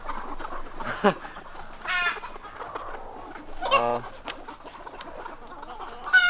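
Chickens on a North Korean defector's poultry farm cluck and squawk in sharp, scattered bursts over a busy background of softer hen chatter, with someone talking quietly in between.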